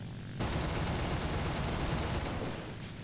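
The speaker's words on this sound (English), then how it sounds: "I try and shoot him again." Gunfire in the War Thunder video game, a loud, dense burst of firing that starts abruptly and continues steadily for about two and a half seconds before easing off, with no voices.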